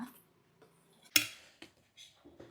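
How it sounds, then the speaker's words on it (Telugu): Homemade ghee is put into a metal bowl: light metallic clinks and taps of utensils against the bowl, a few scattered contacts with one sharper clatter in the middle, close and quiet. "ఇది మన ఇంట్లో నేను తయారు చేసిన నెయ్యి ఈ గిన్నెలో వేస్తున్నాననమాట"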